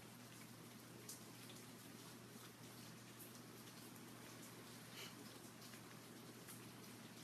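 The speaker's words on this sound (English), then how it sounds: "It's raining outside, and I like the way it sounds." Steady rain falls outside in a faint, even hiss with scattered soft drops, continuous and unbroken throughout.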